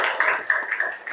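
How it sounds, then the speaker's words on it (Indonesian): Brief scattered clapping from a small class in a physical education lesson, a few uneven hand claps in a quiet room. "Oke, tepuk tangan untuk Nelly."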